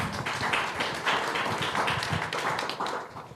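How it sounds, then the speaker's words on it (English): A small audience claps briefly at an investor panel, a short patter of hand claps at moderate distance that tapers off within a few seconds. "So once again, applause for what he's doing."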